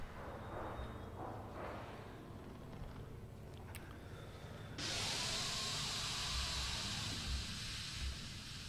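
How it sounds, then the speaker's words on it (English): Sudden loud, steady steam hiss bursts out in a dark building in the Outlast horror game, holding at full strength for several seconds after a quieter, murky stretch. "Oh, it's just steam."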